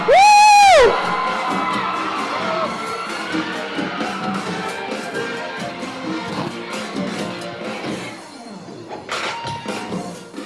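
A crowd at a singing contest cheers and shouts loudly, with whoops and screams rising over a sustained roar that fades slightly and then swells again near the end.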